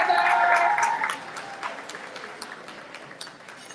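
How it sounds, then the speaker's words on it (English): Applause from an audience welcoming a speaker to a school alumni reunion rises full at first, then thins over a few seconds into scattered claps and a faint murmur. "Please put your hands together."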